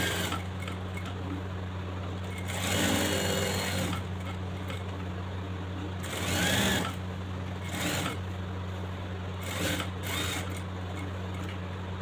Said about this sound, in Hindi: और अब आपने इस तरह से यहाँ से सिलाई स्टार्ट करनी है